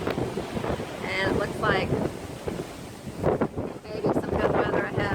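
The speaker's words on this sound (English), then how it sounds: "It's really, really windy." Strong wind buffets the open deck of a Carnival Vista cruise ship at sea on a rainy day, roaring steadily against the microphone while a person speaks over it.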